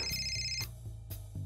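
A telephone ringing during a call: three short electronic ring bursts evenly spaced, fairly clear and close, with nobody speaking.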